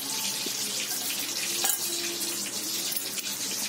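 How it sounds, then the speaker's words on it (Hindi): Water is poured into a pan of frying ivy gourd, a soft, steady splashing hiss over the light sizzle of cooking, close and continuous for a few seconds. "थोड़ा सा पानी डालेंगे इसके अंदर।"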